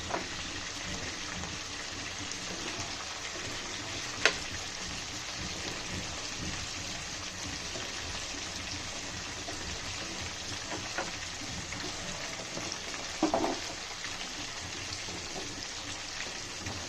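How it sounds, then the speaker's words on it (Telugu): Onion and tomato fry in a pan, making a steady sizzle and crackle that holds throughout at moderate level, with a few faint clinks and stirring sounds and no talking. "ఇప్పుడు ఈ ఎర్రగడ్డ టమాటా బాగా వేగాలి."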